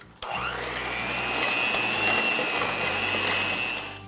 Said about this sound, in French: À la mixette, on va crémer le beurre.